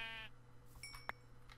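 Minecraft sheep bleating in a modded Yogscast Complete Pack world, a single short bleat set against a steady low game hum and faint clinking effects, quiet and without talk.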